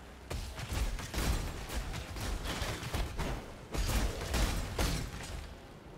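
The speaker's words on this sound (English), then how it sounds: "That fucking corpse explosion again?" Corpse explosions in the action RPG Path of Exile, set in a sewer map, come as a rapid, continuous series of popping blasts and crackling bursts that stay fairly quiet throughout.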